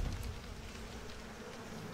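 Angry bees from a video game beehive ability buzz in a steady, dense drone for the whole stretch, fairly loud and close, with no talking over it.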